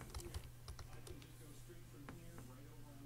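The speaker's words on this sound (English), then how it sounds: "I'll type live." Typing on a computer keyboard: quick, faint clusters of key clicks in an irregular rhythm over a low steady hum, close by and alone.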